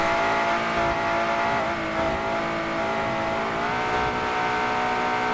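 A modified Aston Martin in a racing video game accelerating hard, its engine loud and close with rising, shifting revs and a hint of tire squeal, sustained throughout without speech.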